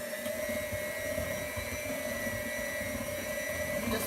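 An electric mixer whisks banana nut bread batter, a steady motor whine with a constant tonal hum and rattling underneath, moderately loud and unbroken.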